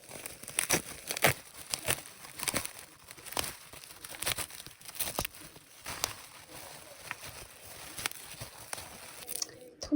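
Parcel package torn open by hand, with close, irregular crinkling, ripping and rustling bursts of paper and plastic over several seconds, and faint voices now and then.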